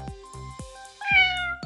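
Ginger cat meowing, several short, clear meows in quick succession with one longer, rising call in the middle, close and alone.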